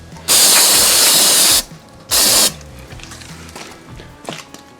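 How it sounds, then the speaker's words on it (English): Two bursts of loud hissing spray onto an engine cylinder head, a long one then a short one, followed by quieter clicking and handling noises. "Make sure you spray down the outside of the head first"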